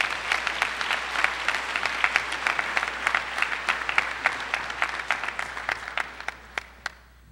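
A high school senior celebration audience applauds two scholarship winners. The clapping is dense and sustained, with crisp individual claps standing out, and it thins out toward the end before stopping.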